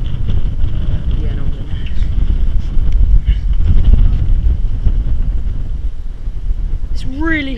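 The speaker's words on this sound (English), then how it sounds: "it's so windy" Strong wind roars and buffets the microphone inside an abandoned water tower, with heavy low rumbling throughout, and a brief whistling tone rises near the end.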